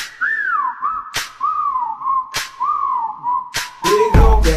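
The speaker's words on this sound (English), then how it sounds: "Okay, time to whistle at her." A person whistles at a girl in a series of rising and falling melodic tones, close and clear, with sharp clicks cutting in between the phrases.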